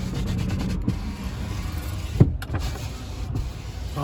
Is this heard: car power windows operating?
yes